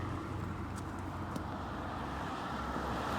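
Steady roar of passing cars on a busy street in East York, Toronto, a continuous wash of tire and engine noise close by with faint small clicks on top.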